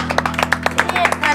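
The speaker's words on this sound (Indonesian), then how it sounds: "Tepuk tangan dong buat Om Willy dong." Studio audience applause on an Indonesian television comedy show, a steady patter of close hand claps under a low hum and some voices.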